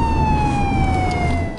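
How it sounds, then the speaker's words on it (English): A police siren wails steadily, loud and continuous, its pitch gliding slowly downward against low traffic rumble, during a car chase in Connecticut. "I began to hear police sirens."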